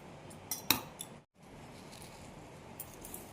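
A spoon scrapes and clinks against a bowl while a spoonful of ghee goes into flour for homemade biscuits, with a few sharp metallic taps early on followed by softer, quieter handling noises.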